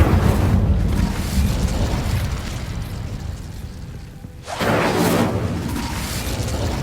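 The Incendio fire spell cast in the video game Hogwarts Legacy, a loud, dense fiery roar that fades and then flares again into a second burst, with no talking over it.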